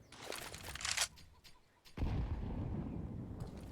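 Grenades going off toward Banana in a Counter-Strike match, with a sudden deep blast at midpoint that rolls into a sustained rumbling roar, after some earlier crackling game noise, moderately loud.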